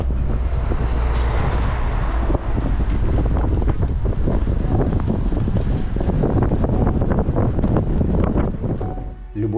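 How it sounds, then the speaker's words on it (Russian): Strong wind at sea on a diving trip roars loudly and continuously across the microphone, with buffeting gusts and a hint of waves and boat motion beneath. "Вы только оцените силу ветра на следующий день."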